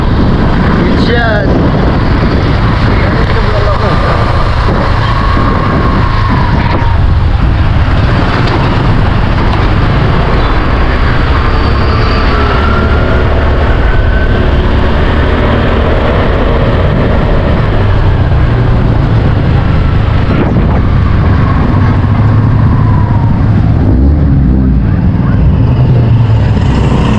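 Street traffic as parents drive out, a steady loud rumble of passing cars and engines with strong wind buffeting the microphone, voices faintly mixed in, continuous throughout.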